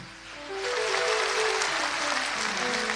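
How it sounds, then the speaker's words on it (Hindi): A crowd breaks into loud, sustained applause that swells after a brief moment and continues steadily, dense clapping filling the space. "भरपूर तालियां।"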